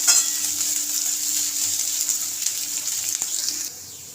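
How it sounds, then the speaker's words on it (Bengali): Chopped onion frying in oil for masoor dal, a steady bright sizzle in the pan that fades slightly toward the end. "পেঁয়াজটাকে একটু ভেজে নেব ভালো করে"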